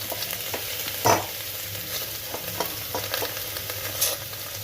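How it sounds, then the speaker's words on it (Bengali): Mutton dropped into a pan of toasted whole garam masala, landing with a sharp burst of sizzle, then frying steadily with a few scraping stirs and another crackling flare near the end. "মাংস দিয়ে দিলাম"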